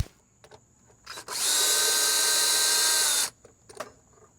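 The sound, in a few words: drill unscrewing outdoor light fixture bracket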